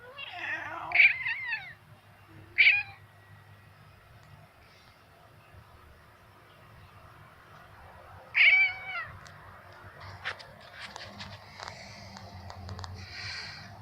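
A chunky cat meows at birds outdoors, three short distinct meows spaced several seconds apart over a low background rumble, with faint sounds from the surroundings.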